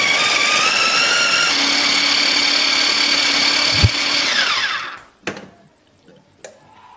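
Electric chopper grinding spice paste, a loud steady motor whine with rising harmonic tones that winds down and stops, followed by a few sharp knocks and clatters of the container.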